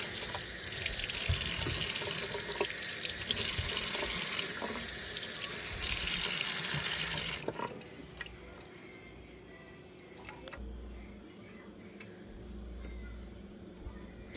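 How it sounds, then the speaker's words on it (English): Tap water runs loud and steady while cucumbers are washed at a sink, then cuts off after about seven seconds, leaving quieter handling noises and faint drips. "We would wash them and then slice them."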